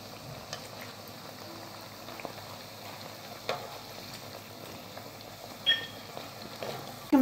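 Pastry pieces frying in hot oil, a continuous soft bubbling sizzle with occasional louder pops and utensil clinks near the end.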